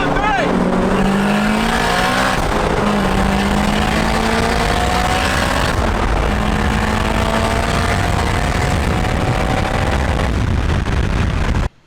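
A Honda Civic and a Ford Mustang make a drag racing run: loud, close engines rise steadily in pitch through the gears, with shift breaks, before cutting off sharply at the end.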